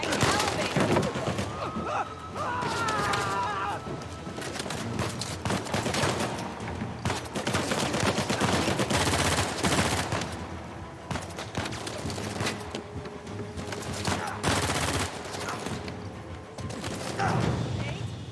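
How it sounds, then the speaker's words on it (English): Rapid gunfire crackles from several directions in a video game, dense overlapping bursts and single shots running almost continuously over a busy mix of game sound. "There's like so many people shooting you from so many different sides."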